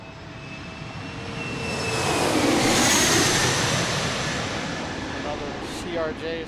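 A jet airliner roars past at Washington's DCA airport during takeoff, the broad engine rumble swelling to a peak midway and easing off as it passes, steady and fairly close with no clear voices.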